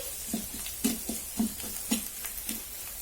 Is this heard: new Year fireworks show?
no